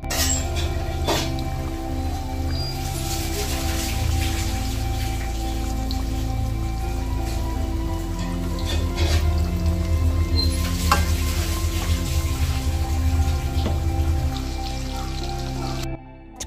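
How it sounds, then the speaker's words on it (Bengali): Pakoras fry in hot oil, a dense, steady sizzle and crackle with scattered pops that runs close and loud for the whole stretch, then cuts off at the end, with no speech. "আর এখন এই পকোড়াগুলো চলো ভেজে নিই ঝটপট।"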